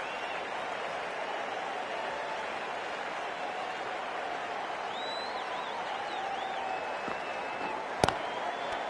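A steady wash of applause and crowd noise fills a cricket stadium in Cricket 24, fairly faint and continuous, with a brief sharp knock near the end.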